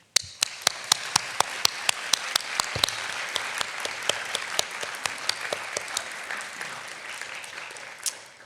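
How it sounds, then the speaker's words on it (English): Applause from an audience at an interior design school commencement ceremony, steady clapping from a large crowd with sharp, distinct nearby claps, continuing for several seconds. "I call upon our graduates to give an enthusiastic round of applause to your families, your friends,"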